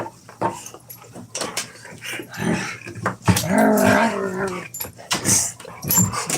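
A puppy growls and yips in playful bursts, close and loud, with scuffling and rustling of play between the growls.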